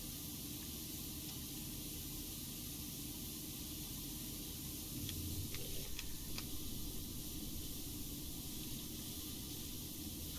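Power Wash Simulator, Warhammer 40k: a power washer sprays a steady, faint hiss that runs unbroken throughout, with a few short clicks near the middle.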